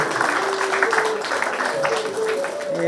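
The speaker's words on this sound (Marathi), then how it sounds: "सर्वांना विनंती आहे की सौरभ सरांसाठी एकदा जोरदार टाळ्या झाल्या पाहिजे." An audience applauds Saurabh Kshirsagar at an honour ceremony on a music school stage, a continuous wash of clapping with tonal music or voices running beneath it.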